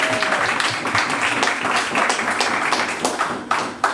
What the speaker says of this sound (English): applaud yourself for having done so